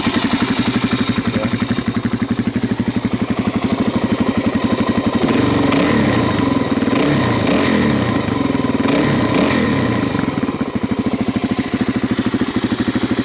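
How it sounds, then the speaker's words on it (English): A 2006 Suzuki DRZ400SM fitted with an MRD exhaust idles with a loud, steady single-cylinder thump, revving up briefly in the middle before settling back to a fast, even idle. "it still pops about the same amount when you let off the throttle as the stock one does"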